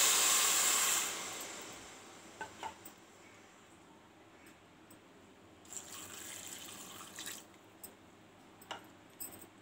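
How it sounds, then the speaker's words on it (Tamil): Water is poured into a pot of jaggery in a home kitchen: a loud, brief gushing pour at the start, then quiet with scattered small clinks and splashes. "இப்போ அதுக்கு ஒரு ரெண்டு கிளாஸ் தண்ணி"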